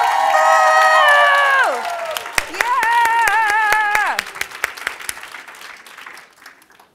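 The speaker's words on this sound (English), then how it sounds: "you will get to do lots of level 10 claps" Audience in a hall clapping and whooping loudly for a few seconds, with high shouts over the applause, then tapering into scattered, fading claps.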